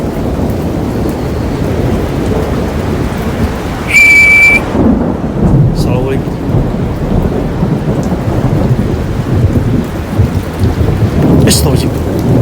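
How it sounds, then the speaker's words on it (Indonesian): Steady heavy rain pours down with a rumble of thunder underneath, loud and continuous throughout, while a few people greet each other and exclaim briefly over it, and a sharp high whistle-like tone cuts in partway through. "Dan sedangkan di sini hujan dong."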